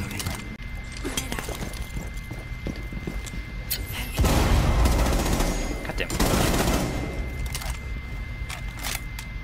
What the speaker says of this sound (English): Oh, you're shooting me from your gun.